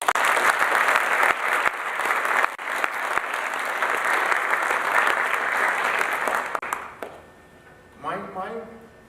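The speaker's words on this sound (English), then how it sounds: "I think we should say thank you again in terms of a big applause to Dr. Frederick Kirshenmann" Sustained audience applause closing a 2005 evening lecture on sustainable agriculture, loud and dense for about seven seconds before fading out, followed by a brief spoken voice at the end.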